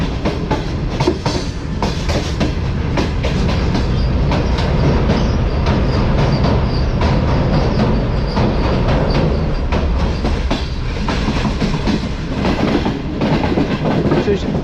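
Tezgam express train running into Rawalpindi railway station toward the main platform, a loud continuous rumble with rhythmic clickety-clack of wheels over rail joints, heard close from inside the coach.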